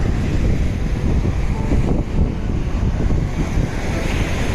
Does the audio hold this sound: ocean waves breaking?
yes